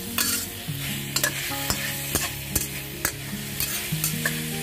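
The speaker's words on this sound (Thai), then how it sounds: "ผัดต่ออีกสักครู่ปิดแก๊สแล้วใส่จานเสิร์ฟได้เลยครับ" Crispy pork and basil being stir-fried dry in a wok, a steady close sizzle broken by repeated sharp scrapes and clanks of the spatula at a quick, uneven rhythm, with no talking.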